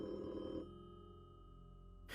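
A telephone rings once, a bright electronic trill that stops abruptly, followed by a quiet pause before the next ring begins.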